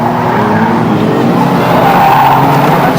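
Banger racing cars at Bovingdon spin around on the track, with a sustained loud roar of engines and tyre scrubbing and skidding that stays steady and close throughout.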